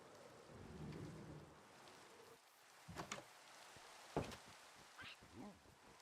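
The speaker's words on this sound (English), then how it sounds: "it's raining outside" Rain falls steadily outside with rumbles of thunder, soft and muffled in the background, while short sharp knocks and brief sounds break in at intervals.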